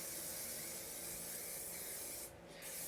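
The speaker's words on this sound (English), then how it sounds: "take this hairspray, and this is gonna kind of just help me mold my hair. So I'm gonna spray it." Hairspray hisses from an aerosol can onto braided hair in a steady, fairly close spray lasting a couple of seconds, with a brief pause near the end.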